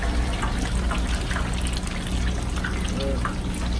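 Canola oil bubbles steadily in a deep fryer aboard a food truck, a continuous close crackling and fizzing with small pops scattered through it.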